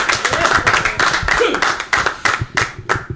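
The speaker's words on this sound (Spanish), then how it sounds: "Un aplausito, pues," A small crowd gives a short round of clapping at a Venezuelan gaita music segment. Sharp, fairly close claps come in quick bursts while people talk over them.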